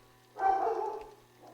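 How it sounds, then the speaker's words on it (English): A dog gives one short muffled bark or yelp from another part of a home kitchen, brief and moderately loud over a quiet background hum. "Sorry, my dog."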